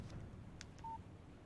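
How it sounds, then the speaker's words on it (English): A short electronic notification tone sounds once from a phone in the Alan Wake video game, a brief clean beep over a faint ambient hum. "Text message from Barry."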